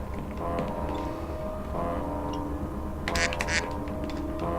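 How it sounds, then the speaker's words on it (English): In a video game, a duck quacks twice, with a brighter burst near the end, each call faint against a steady game soundtrack. "I heard a quack."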